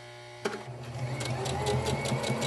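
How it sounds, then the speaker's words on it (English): Sewing machine stitching a back stitch on a fabric face mask: a brief pause, then a sharp start into a fast, loud, rhythmic run of needle strokes, close up with no talking. "do a back stitch here"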